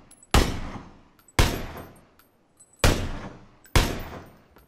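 Gunfire in PUBG (Playerunknown's Battlegrounds): four loud, close single shots spaced unevenly about a second apart, each with a booming echoing tail, alone without talk.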